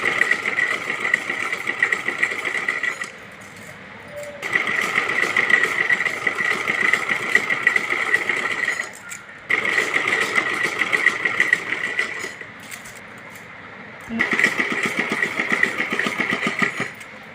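A sewing machine stitches in three long runs of fast, even mechanical chatter, each separated by a short pause.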